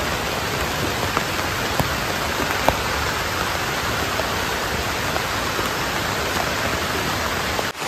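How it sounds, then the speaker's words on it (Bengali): A heavy monsoon downpour drums steadily and densely, a loud unbroken wash of rain with no voices. "এই দেখো মুষলধারে বৃষ্টি শুরু হয়ে গেছে, বৃষ্টি থামার কোনো নাম নেই।"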